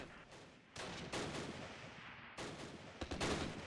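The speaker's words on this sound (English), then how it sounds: "so there we go, beautiful mortar strike" Mortar strike in the Close Combat wargame at Arnhem Rail Bridge: dull booming impacts and rumbling blasts in quick succession over a constant battlefield din.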